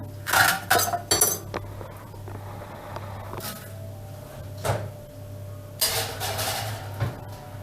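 A baking tray of kadayıf goes into an oven set to 200 degrees, with clattering metal knocks and clinks in quick clusters, a softer knock midway, then more rattling toward the end.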